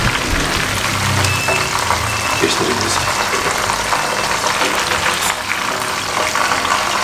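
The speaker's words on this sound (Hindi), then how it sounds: "ये भी सब मैं इसी तरीके से फ्राई कर लूँ" Chicken fingers fry in hot oil, a loud dense sizzle that holds steady close to the pan, with faint talk now and then.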